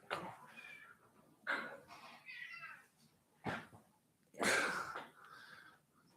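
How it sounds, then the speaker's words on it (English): A cat meows several times, close and fairly loud, in a quiet indoor setting during a live stream. The calls are spaced apart with soft rustling between them. "I've got a cat that wants to come on the live."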